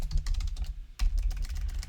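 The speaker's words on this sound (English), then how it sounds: "you're going to type your question into here" Quick clicking keystrokes on a computer keyboard as a question is typed, steady close-up tapping in two bursts with a brief pause between, no voices.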